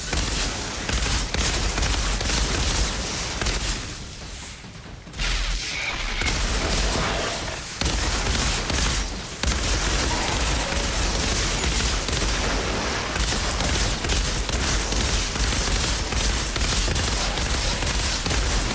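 Dense, continuous gunfire from the Outriders shooter game, loud and sustained throughout with only brief lulls, layered with booming weapon effects and no talking.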